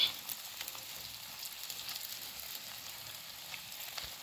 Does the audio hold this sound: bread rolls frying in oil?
yes